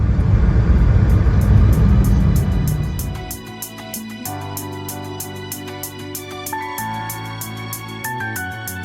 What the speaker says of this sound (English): We landed on runway 30 right in Minneapolis around half an hour ahead of schedule